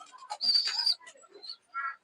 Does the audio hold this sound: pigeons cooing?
yes